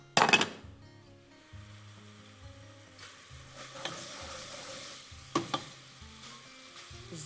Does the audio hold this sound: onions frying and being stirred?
yes